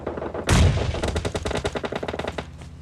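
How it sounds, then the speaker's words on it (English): Gunfire in a battle royale video game: a sharp opening blast followed by a rapid, rhythmic automatic burst of shots that holds for about two seconds, then stops, loud and close with no talk. "Here we are with Leon from Fun putting the rounds into Detective from BL."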